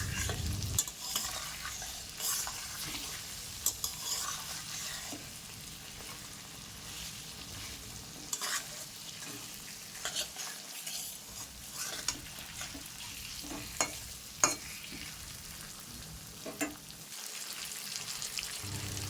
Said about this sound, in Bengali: এক চামচ কাশ্মীরি রেড চিলি পাউডার দিয়ে মিশিয়ে নেব।